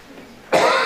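A single sharp cough bursts out in a lecture hall, loud and close, after a brief stretch of quiet room tone.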